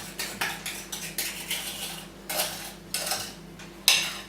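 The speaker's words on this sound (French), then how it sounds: "commence à mélanger avec le fouet, tout doucement" A whisk clinks against a bowl as it slowly mixes cake dough for Christmas cakes, making a series of light, bright metallic taps at an irregular pace, close and clear with no talking.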